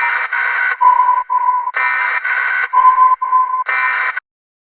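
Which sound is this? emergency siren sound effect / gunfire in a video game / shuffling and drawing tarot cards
emergency siren sound effect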